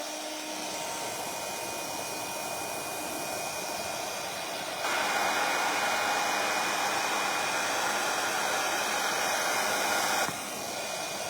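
A hair dryer blows on a wet watercolor painting of poinsettias, giving a continuous close whooshing hum that briefly grows louder and brighter in the middle before easing back.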